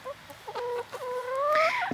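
Chickens among a flock of hens and roosters give a few short clucks, then a drawn-out, rising squawking call, close and clear in a quiet farmyard, with no talking.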